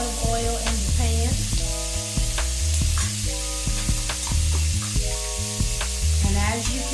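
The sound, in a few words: shrimp frying in olive oil in a pan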